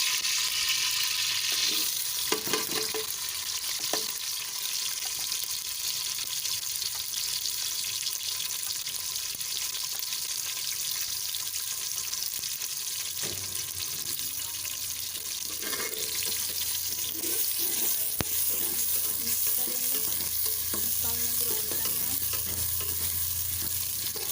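Onions frying in a pan for a potato and carrot curry, stirred now and then: a loud, continuous hissing sizzle with occasional scrapes and clicks of the utensil, steady throughout.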